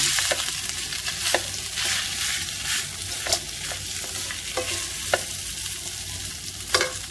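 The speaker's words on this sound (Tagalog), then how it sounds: "Painit din ako ng rice galing sa Chowking" Leftover rice with garlic is reheated in a pan, sizzling and frying steadily while a utensil stirs and scrapes in sharp, irregular clicks.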